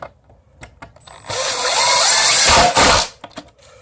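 A power drill whirs loudly for a couple of seconds, driving in a screw, with brief faint clicks and handling noises before and after.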